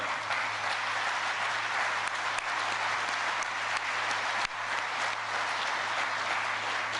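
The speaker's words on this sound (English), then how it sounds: "So give yourselves a round of applause." Steady, sustained applause from a crowd at a plant groundbreaking ceremony in Lancaster, Ohio, an even wash of clapping heard from a distance with a low hum beneath and no talk.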